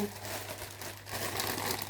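A large plastic-wrapped pack of 32 three-ply toilet paper rolls is handled, giving a close, continuous crinkling of film that swells toward the end.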